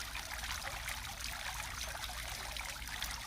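Water trickles steadily from a garden water feature at Port Arthur, Tasmania, a continuous close, bright babbling flow with no voices over it.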